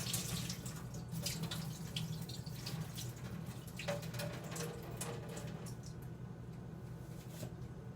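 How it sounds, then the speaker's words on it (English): Soggy matzoh mixture drains into a kitchen sink with a steady, fairly quiet rush of running water and light splashing that lasts throughout, with no talking. "you're going to drain this mixture into the sink, which I'm going to do right now off camera"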